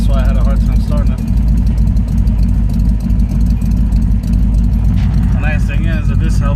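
A detuned small-block Chevy V8 swapped into a Nissan D21 truck idles close and loud, with a steady, deep, even rumble throughout and a voice faintly audible over it.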